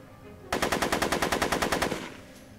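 Rapid automatic gunfire in the Back to the Future video game: one loud, close burst of about fifteen evenly spaced shots lasting around a second and a half, then cutting off.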